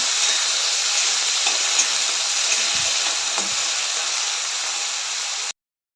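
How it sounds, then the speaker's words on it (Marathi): Onion and tomato with curry leaves fry in a pan, a loud hissing sizzle that holds steady with a few soft stirring knocks, then cuts off abruptly. "आता हे चांगलं भाजून घ्यायचं लालसर होईपर्यंत भाजून घ्यायचं आहे"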